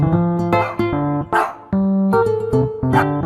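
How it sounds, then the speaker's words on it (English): A dog barks repeatedly at close range: about eight clear, tonal woofs in an uneven rhythm, loud and alone with no other sound between them. "dog"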